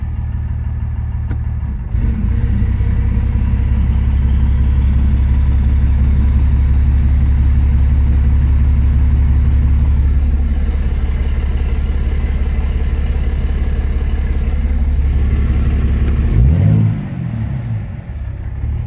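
A 2006 Dodge Ram 2500 with a transmission problem lugs down under load while the brake is held, a steady deep engine rumble that drops and strains near the end, with no talk.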